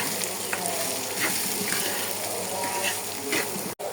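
Lentils frying with salt, turmeric, coriander and chili powder for a jackfruit-seed dal, giving a steady close sizzle with faint crackles throughout and a brief dropout near the end.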